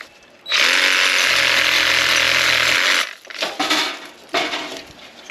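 Reciprocating saw cutting off a tropical plant limb flush, loud continuous buzzing for about two and a half seconds, then stopping, followed by a few shorter rough bursts and rustling.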